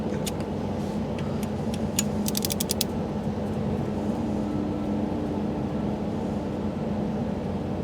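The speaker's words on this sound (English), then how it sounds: "It's very soft clicking, isn't it?" A torque wrench in a workshop clicks softly as a bolt is tightened to about 12: faint, sharp clicks, first spaced out and then in a quick burst, heard over a loud, steady mechanical hum.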